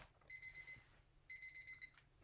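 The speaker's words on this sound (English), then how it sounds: "Oh, timer, Deborah." A timer alarm beeps in two separate bursts, each about half a second long, with a short gap between them. It sounds fairly faint over the quiet background of a resin-crafting session.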